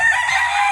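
A rooster crows in a farmyard where gamecocks are raised, one sustained, loud, strained call held for the whole moment with no talking over it.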